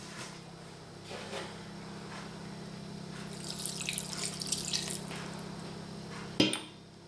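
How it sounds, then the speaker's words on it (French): Leftover water is poured into a bowl of pizza dough, a faint splashing trickle that swells midway and ends with a brief knock against the bowl. "On va mettre le reste d'eau."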